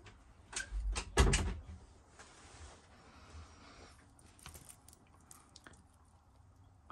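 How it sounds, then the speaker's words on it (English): A door thuds shut up close with a short burst of knocks and rattles, then the room settles into quiet background hiss. "Jesse, close that door, please."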